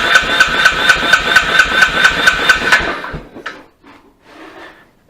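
A 2018 Royal Enfield Gun Metal Grey motorcycle engine with a faulty decompressor cranks at full throttle on a cold start, giving a steady, loud, rhythmic chugging for about three seconds before stopping, followed by faint clicks.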